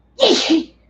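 One close, sharp human sneeze bursts out briefly and stands alone against near silence.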